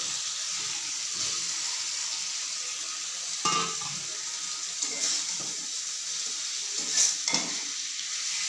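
Mourola fish and potatoes frying in spiced oil give a soft, steady sizzle, with a few louder clatters from stirring or handling scattered through.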